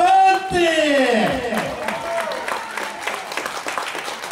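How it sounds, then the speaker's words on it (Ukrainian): Crowd at the Starokostiantyniv city day celebration claps in a burst of applause that fades over a few seconds, heard under a loud voice and ringing music tones. "Щирі аплодисменти!"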